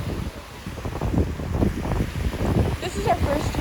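Wind gusting along the water line of a beach on Sanibel, a steady low roar of buffeting against the microphone with faint surf underneath and no clear voices.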